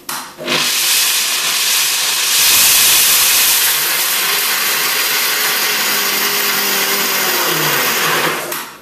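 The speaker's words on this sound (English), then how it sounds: "I'm going to just do it in my big high-speed blender." A high-speed jug blender grinds nuts toward a fine texture, a loud steady whirring roar that swells briefly in the middle and runs for about eight seconds before cutting off, with no talking.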